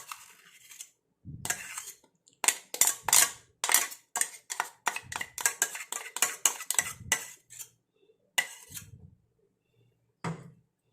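A metal spoon scraping ground paste out of a mixer grinder jar, giving a run of sharp clinks and scrapes in quick irregular bursts, with short pauses and no talking.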